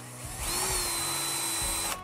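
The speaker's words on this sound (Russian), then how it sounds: "Внутри небольшая завальцовка получилась, поэтому я хочу заюзать сверло." Power drill with a bit reaming out the inside of a metal piece, a steady high whining spin that winds up, holds for nearly two seconds and then stops, loud and close.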